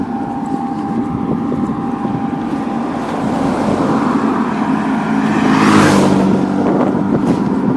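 Steady roar of traffic on a road, with continuous engine and tyre rumble and one vehicle surging past close by near the end, loud and without talk.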